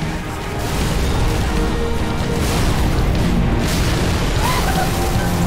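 A rocket launcher fires and its round explodes in the Halo 3: ODST shooter, giving a loud, sustained, rumbling boom that fills the whole stretch with dense roaring noise.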